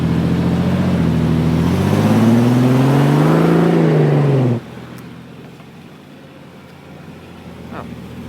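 A Ford car's engine revs loud and steady with a rising whine as it pulls out of snow, then suddenly drops to a quieter low idle rumble.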